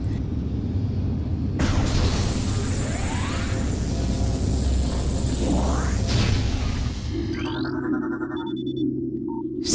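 A spinning flamethrower enemy is destroyed in the Metroid Prime video game: a loud, dense roar of explosive rumble lasts several seconds, with rising whooshing sweeps, then gives way to quieter synthetic game tones.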